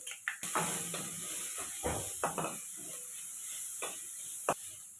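Cashews fry in hot oil with turmeric and salt for masala rice, giving a steady close sizzle broken by a few sharp clinks of stirring against the pan.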